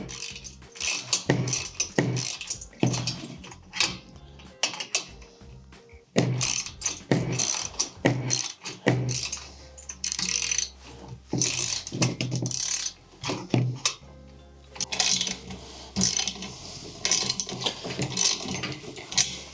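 Bolts on a steel tent jack are tightened by hand with a ratchet, producing close, loud clicking bursts and metallic clanks that come in irregular runs with short pauses.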